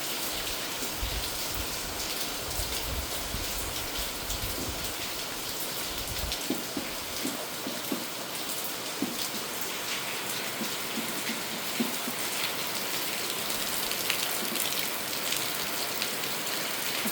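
Steady morning rain falls on a village, a dense continuous patter on surfaces with occasional heavier drops, no voices.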